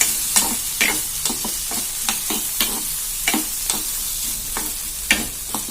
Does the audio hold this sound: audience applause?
no